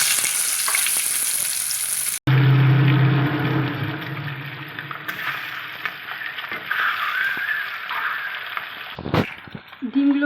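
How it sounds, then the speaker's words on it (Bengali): Eggs fry in a pan spiced with red chilli powder for a dhaba-style egg curry, a steady close sizzle with occasional scraping and stirring clatter. "ডিমগুলো ভালো করে ভাজা হয়ে গেলে আমি এটা তুলে রাখবো।"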